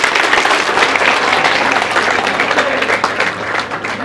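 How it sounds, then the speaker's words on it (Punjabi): An audience at a college show claps for a female student, sustained dense applause, loud and close, tapering slightly toward the end. "ਤਾੜੀਆਂ ਲਾਓ ਵੀ ਪਹਿਲਾਂ ਕੁੜੀ ਲਈ"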